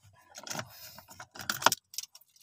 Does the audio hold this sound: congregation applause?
no